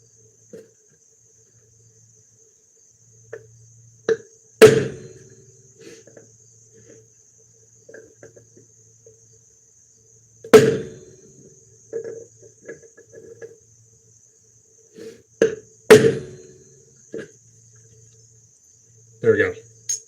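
A hammer strikes a punch to make pinholes during a military challenge build, a handful of sharp, isolated metallic taps separated by quiet stretches with faint insect-like background hiss.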